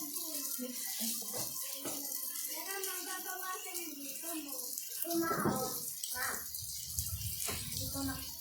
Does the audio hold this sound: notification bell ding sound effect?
no